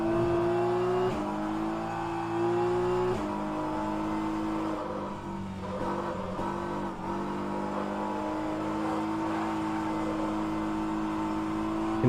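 Race car engine in rFactor 2 during endurance practice at Road America, revving and shifting through gears with rising and falling whine, steady and close, with no voices.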